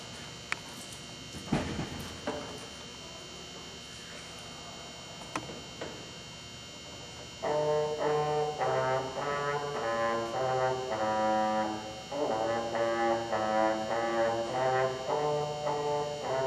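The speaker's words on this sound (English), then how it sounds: "Let's hear Miss Ileana on the trombone." Trombone solo by a 6th grade band student at a school concert: after a few seconds of faint room noise and clicks, a sustained brass melody of held tones plays moderately loud in the hall, with a brief pause midway.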